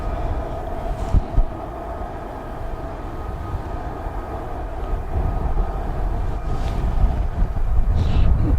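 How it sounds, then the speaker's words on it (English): Steady, broad rumble of jet aircraft, F-35 fighters descending toward a base, heard from a distance outdoors with wind buffeting the microphone, the roar swelling gradually toward the end. "Sound like more F-35s coming down."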